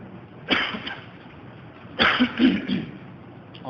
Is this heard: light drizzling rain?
no